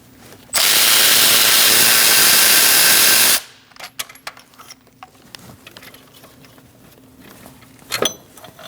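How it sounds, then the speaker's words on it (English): A loud, steady power-tool whir runs for about three seconds on an alternator bolt of a 2002-2006 Toyota Camry 2.4L, then stops, followed by scattered metallic clicks and clinks of a socket and tools close by. "Take that bolt out and then remove your alternator."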